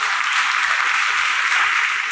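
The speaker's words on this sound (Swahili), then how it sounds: "Na mpigie Bwana Yesu makofi." A church congregation giving steady, dense applause during a sermon, a continuous close wash of clapping with no break.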